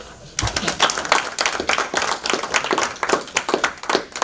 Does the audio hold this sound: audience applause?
yes